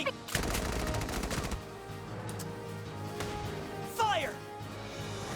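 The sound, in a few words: gunfire in the video game Valkyria Chronicles 4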